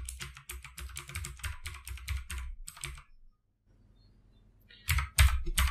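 Rapid typing on a computer keyboard in bursts of close, crisp key clicks, a short pause, then a few louder keystrokes.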